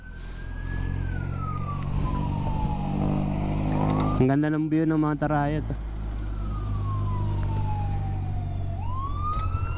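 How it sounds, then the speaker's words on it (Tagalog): A wailing ambulance siren sweeps up and down over steady traffic and engine rumble, with a person talking briefly partway through. "Ambulansya pala yung maingay na yun."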